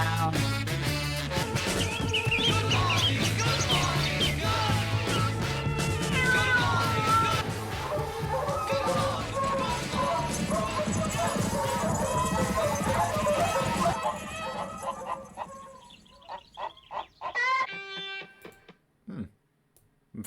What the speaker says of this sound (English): At the end, they're having all like the animal sounds.